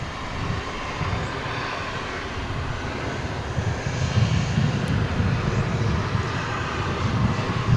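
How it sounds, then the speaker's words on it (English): American Eagle regional passenger plane arriving at DFW airport, a steady broad roar of jet engines heard from a distance, swelling gradually louder through the passage with no voices. "You're about to see the arrival of another American Eagle flight, this one coming in from Killeen in Texas"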